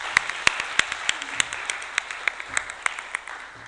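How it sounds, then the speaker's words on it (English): An audience at a Women and Girls in Cyber session in Lilongwe applauds, sparse individual claps ringing out in an irregular rhythm, fairly close, with a faint hum beneath. "Give yourselves a round of applause."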